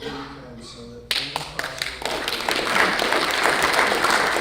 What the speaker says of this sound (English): let's give all 7 candidates a round of applause